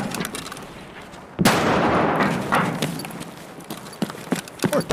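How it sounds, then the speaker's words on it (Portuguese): Gunfire in the video game Escape from Tarkov: a sharp loud burst, then a run of scattered shots at varying distances, some close and punchy, others distant cracks. "tá atirando em todo mundo"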